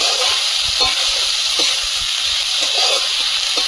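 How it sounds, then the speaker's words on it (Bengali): Chili, coriander and cumin powders sautéing in hot oil, giving a steady close sizzle and hiss with a few soft stirring scrapes scattered through it. "লঙ্কার গুঁড়ো, ধনে গুঁড়ো, জিরে ধনে লঙ্কার গুঁড়ো দিয়ে ভালোভাবে আর কি কষিয়ে নেব"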